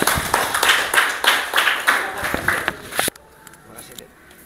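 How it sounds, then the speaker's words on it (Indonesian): Classroom applause for a student group after their presentation, a burst of clapping from several people lasting about three seconds, then stopping abruptly into quiet room noise. "oke, tepuk tangan untuk kelompok 3."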